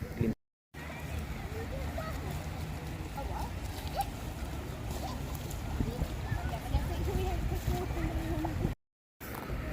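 Steady water rushes and splashes at the Princess of Wales Memorial Fountain in Hyde Park, London, a continuous outdoor wash with faint voices in the background.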